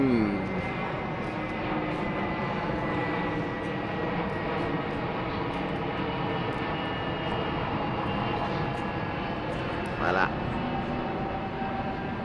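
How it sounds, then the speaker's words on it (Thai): A Thai Airways airliner flies overhead, its engines a steady, moderately distant drone that holds for the whole stretch, with a brief louder rustle near the end. "พอดีเห็นเครื่องบิน"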